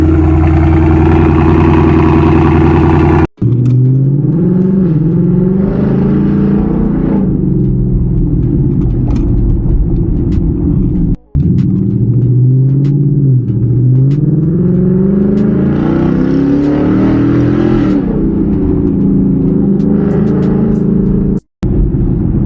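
A 2024 Ford Mustang GT V8 pulls away and drives, its deep exhaust rumble rising and falling through several revs and gear changes, loud and close, with brief breaks in the sound and no talking.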